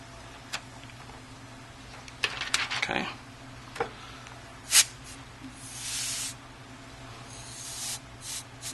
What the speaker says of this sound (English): using a can air gun, just spray out any dust that might be falling this way.